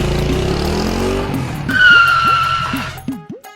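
A motorcycle arrives with its engine running, then skids to a stop with a loud, drawn-out tire squeal before the engine sputters and cuts out.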